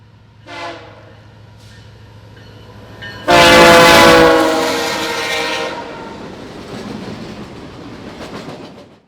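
A loud train horn blasts as a Norfolk Southern heritage-unit locomotive rumbles close by, preceded by a brief distant horn, then fading into rolling rail noise.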